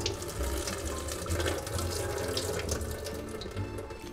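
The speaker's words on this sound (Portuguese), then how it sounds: "Vou escorrer essa água que mais cedo eu já deixei de molho." Water drains from ingredients left soaking in a kitchen, a steady, close rush like a running tap pouring continuously into a sink with no talk over it.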